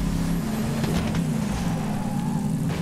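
In the video game Borderlands 3, a car engine hums steadily with a low droning rumble throughout, loud and continuous, with faint scattered clicks over the top.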